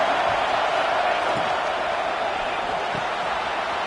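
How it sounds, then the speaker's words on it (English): A football stadium crowd at a Georgia vs Texas A&M game keeps up a broad, sustained roar to rally the defense, a steady wash of noise with no distinct breaks. "Listen to this crowd just shaking the girders of this place"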